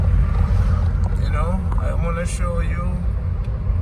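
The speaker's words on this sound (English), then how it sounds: "And now we're driving through." A car drives through Manchester, Jamaica, with a steady low road and engine rumble inside the cabin while someone talks over it.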